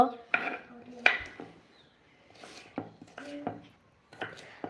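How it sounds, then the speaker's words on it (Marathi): A knife chops vegetables finely on a board for Maharashtrian bhogi bhaji, giving sparse, irregular close taps with soft rustling between them. "असं बारीक चिरून घेते मस्त"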